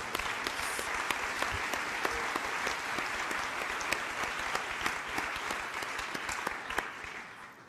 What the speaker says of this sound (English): Let's give him a big applause for.